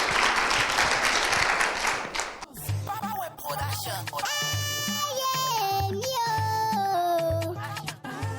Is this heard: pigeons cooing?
no